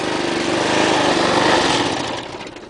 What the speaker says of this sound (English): When you're done, engage the stopping brake like so. Then shut the motor off.